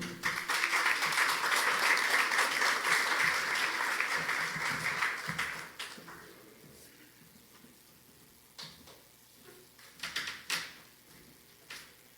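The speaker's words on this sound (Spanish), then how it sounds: "Un fuerte aplauso para recibir a William Roberto Yambay." Loud, dense applause from an audience at a business forum welcomes a speaker, then tapers off by the midpoint, leaving a quieter room with scattered knocks and faint rustling.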